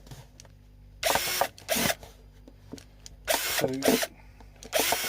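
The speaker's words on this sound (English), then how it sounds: "you've got to drill your holes in the bottom" Power drill boring holes through the bottom of a plastic tomato planter, several short loud bursts of drilling separated by pauses, with a brief spoken word in between.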